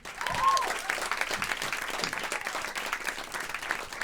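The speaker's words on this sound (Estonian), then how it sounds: "teeme Annile veel ühe suure aplausi." A stand-up comedy audience claps for Anni in a steady, fairly dense round of applause. A voice briefly sounds over the clapping.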